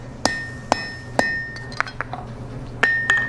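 A hot steel chain link drops onto a blacksmith's anvil in the forge, giving a series of bright metallic clinks and rings at uneven intervals over a steady low background hum.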